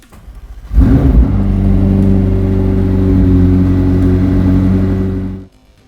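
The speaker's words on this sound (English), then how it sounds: "Now let's hear the twin-turbo V8 engine." A McLaren 765LT's powerful twin-turbo V8 engine starts with a burst and settles into a loud, deep, rumbling idle that holds steady for several seconds before cutting off.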